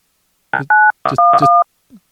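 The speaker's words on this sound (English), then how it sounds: "He was just hitting touch tones at me." Touch-tone telephone keys pressed during a call, giving two clear dual-tone beeps of about a quarter second each, separated by brief short bursts of line noise.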